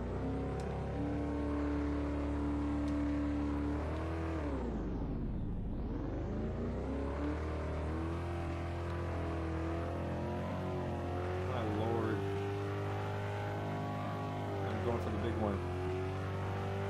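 Car engine in a Roblox game hums steadily, with a sharp pitch dip and rise midway as the vehicle loops, while a player talks over it throughout.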